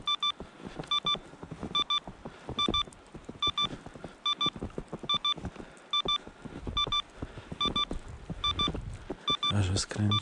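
An avalanche transceiver emits regular electronic beeps, evenly spaced and repeating steadily as its signal strengthens, while someone talks over them throughout.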